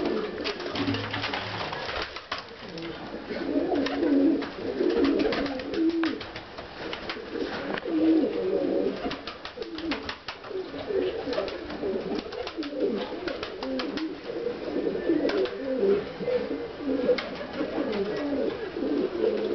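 Two male pigeons coo in low, rolling phrases that repeat again and again, close by, over a soft background with no talk.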